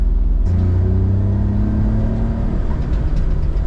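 Suzuki Jimny engine running while driving with a manual clutch, a steady close rumble with a brief rev and a falling pitch as it slows for a U-turn, no talk over it.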